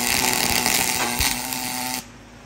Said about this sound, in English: I'm gonna start my weld in this open gap